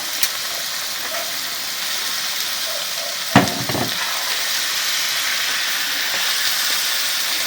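Steady frying sizzle of pork on a saj pan, with a sharp clatter and a few scraping knocks midway as the meat is turned.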